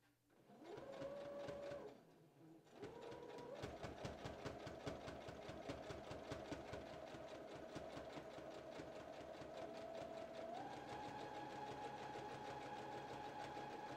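Domestic sewing machine stitching together fabric dress pieces, a short burst followed by a long continuous run with a steady rapid needle beat and motor hum, close and moderately loud, pitch rising slightly near the end.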